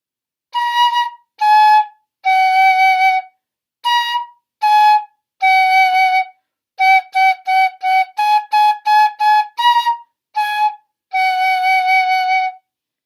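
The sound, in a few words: plastic fife playing notes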